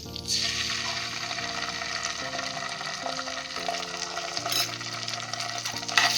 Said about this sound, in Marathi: आलं लसूण पेस्ट चांगले परतून घेऊया।